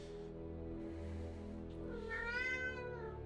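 A cat gives a single drawn-out meow near the end, rising then falling in pitch, over a steady low hum in a quiet room.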